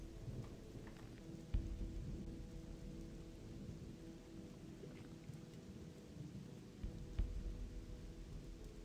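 Steady rain and thunder from a storm in the game Gothic 2, a constant wash of rainfall with two sharp thunderclaps rising out of it, one early and one near the end.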